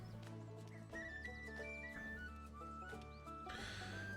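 A horse whinnies and snorts over music with a steady melody in MTG Arena, a brief animal call mixed under a game-like soundtrack.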